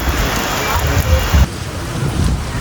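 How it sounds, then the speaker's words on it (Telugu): Heavy rain pours steadily near a waterfall at Penchalakona, a dense, loud roar of water filling the whole scene with no speech. "ఫుల్ వాన పడుతుంది"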